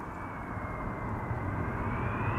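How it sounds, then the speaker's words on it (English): An American Airlines Boeing 787 arrives at Amsterdam Schiphol with a steady, broad engine roar that builds slightly as it passes nearby. "It's going to be followed by American Airlines flight 204 arriving from Philadelphia."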